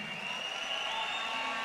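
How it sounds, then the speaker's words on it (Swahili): Steady applause from a crowd at a Kenyan political party gathering, a continuous even wash of clapping with no voices over it. "Wapigie makofi jameni."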